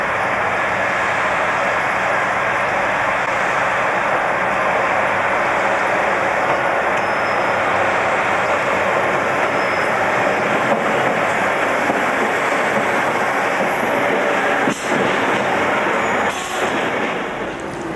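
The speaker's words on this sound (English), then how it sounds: "After David pulls the signal lever, the semaphore signal responds and the train departs the station." A 1980s diesel train departs Grimsby Town station with a steady, loud, continuous engine rumble and wheel noise, a few sharp knocks near the end, no voices.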